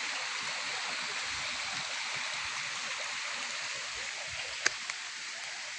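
A small creek runs along the edge of a sloping property, its water rushing in a steady, continuous hiss with one brief click partway through and no voices.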